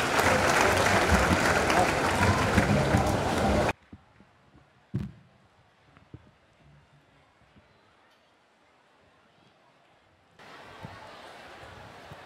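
Loud crowd applause for a bishop at an outdoor Holy Mass during an annual pilgrimage, a dense sustained clatter of clapping that cuts off abruptly after a few seconds, followed by near silence and a faint return of ambient crowd noise.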